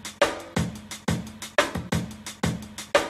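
A sampled drum breakbeat plays back with no expander, kick and snare hits landing in a steady loop, each hit trailing into audible room ambience and decay, loud and alone.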